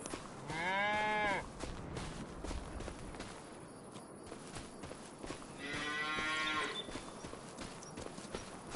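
Two long, loud moos from young and large cattle in a farm simulation video game, one near the start and one later, with quieter shuffling and ambient noise between them.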